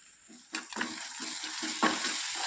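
Green chili paste stirred and fried in a pan, a short close sizzle with a few scraping spatula strokes.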